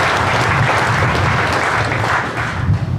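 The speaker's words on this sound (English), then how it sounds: "Let's give John a round of applause too for everybody." Loud, continuous clapping from a crowd at a county agricultural awards program, a thick wash of applause holding steady for the full few seconds with a slight dip near the end.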